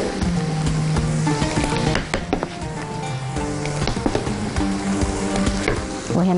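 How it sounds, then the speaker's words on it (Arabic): Shrimp stirred into molokhia in a hot pan, heard as a constant crackling sizzle with scraping and clinking from the stirring, close and loud, with no talk over it. "انا هنزل هنا الجمبريكة، وخلينا نقلب تقليبة حلوة"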